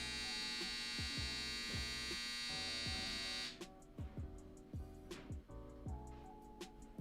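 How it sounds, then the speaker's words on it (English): A household clothes dryer gives a loud, steady electric hum and buzz for the first half, then drops away into a series of separate lower tonal thuds and buzzes with short gaps between them. "If you can hear that, that's my dryer."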